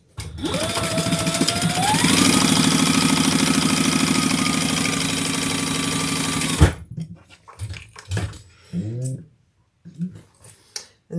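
A sewing machine stitching across tape laid over the top of a bag, a loud continuous whirring run for about six seconds, then a sudden stop followed by a few light handling clicks and thumps nearby.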